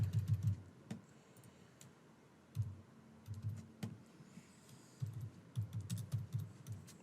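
Card details are typed on a computer keyboard in quick bursts of close, light key clicks separated by short pauses, with no one talking.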